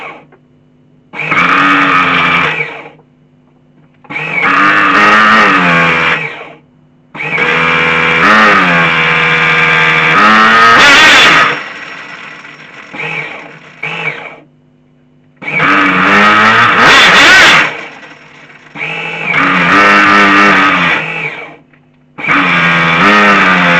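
A Flying Point Probe VXI nitro RC car engine running on 16% nitro screams loudly in repeated high-pitched bursts of several seconds each, revving up and down, separated by short quiet gaps.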